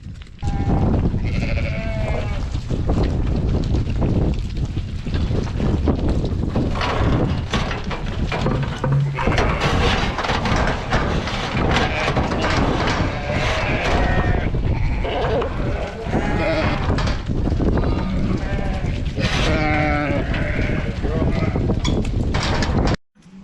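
Sheep bleat loudly and almost without pause during livestock herding-dog training, a dense flock chorus close by, with people talking underneath.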